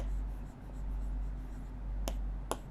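Writing a number on a board during a maths lesson, soft scratchy strokes over a low room hum, followed by two short sharp taps near the end, with no talking.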